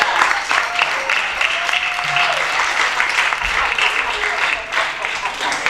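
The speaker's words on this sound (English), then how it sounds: "Everyone applaud her so she doesn't feel so bad." An audience at a stage play applauds a performer, giving a dense, loud and steady burst of clapping with some faint crowd noise mixed in.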